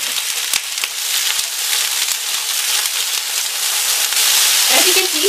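Chopped cauliflower and potato pieces sizzle steadily in hot oil in a pan over medium-high heat, a dense continuous hiss with scattered crackles and a brief stir near the end.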